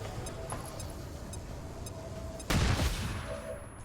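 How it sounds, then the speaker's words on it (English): A flashbang grenade goes off in XCOM 2: one sudden loud blast with a crackling tail that fades over about a second, cutting through quiet game ambience. "Let's go ahead and flashbang that."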